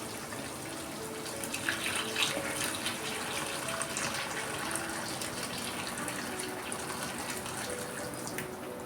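Steady rushing boiling water pours continuously into a pot of oxtail, a dense splashing gush at constant level, close by with no voices.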